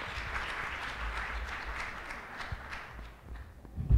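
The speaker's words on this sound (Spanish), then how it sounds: "Les damos un fuerte aplauso a ellos para iniciar con esta conferencia." At a national archivists' conference in Costa Rica, a fairly faint round of applause from the audience patters on for about four seconds, with a few louder knocks near the end.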